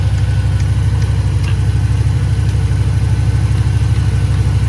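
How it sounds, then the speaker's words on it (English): A steady mechanical hum and buzz of a small car air suspension compressor running continuously, close and fairly loud, with a low rhythmic throb. "Compressor will start again in a second, there it goes."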